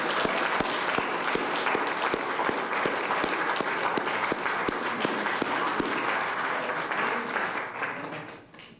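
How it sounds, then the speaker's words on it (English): A debate audience applauds the candidates with sustained, dense clapping at an even loudness for several seconds, then fading out at the end. "I think it's time for a round of applause for the candidates."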